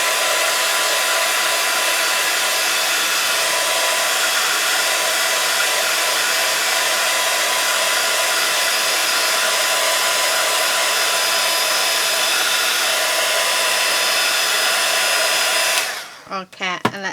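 A hair dryer blows steadily and loud on a coat of paint on a mixed-media MDF bottle, a constant roar for about sixteen seconds before it cuts off abruptly.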